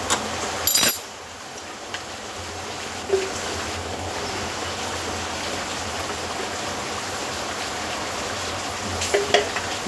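Two spoonfuls of Surabhi ghee hitting a hot pan of elephant foot yam curry give off a steady, even sizzle and hiss, with a sharp clatter near the start and a few soft clinks later.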